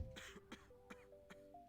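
Video game cough emote: a character coughs four or five times in short, evenly spaced bursts, close and clear over a faint steady musical tone.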